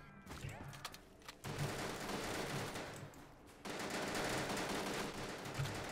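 Automatic gunfire from a weapon in Call of Duty: Black Ops 3 custom Zombies, rapid bursts rattling through a dense game soundscape, with loud stretches broken by brief lulls.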